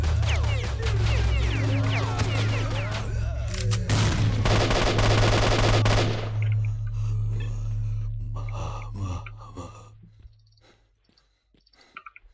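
Grenade blast and heavy gunfire in S.T.A.L.K.E.R. inside the X-16 lab, a dense loud barrage of shots and booms under a steady low drone, thinning into scattered bursts and fading to near quiet.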